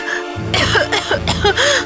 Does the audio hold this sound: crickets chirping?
no